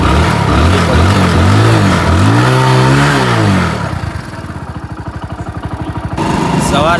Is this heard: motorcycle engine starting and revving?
yes